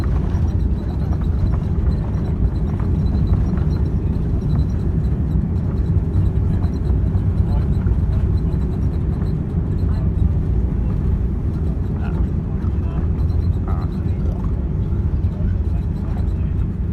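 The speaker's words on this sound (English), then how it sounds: "There goes the reverse thruster." Inside the cabin of a Boeing 787-9 Dreamliner on landing, reverse thrust produces a loud, steady, low engine roar that fills the whole stretch, with faint rattles and bumps over it.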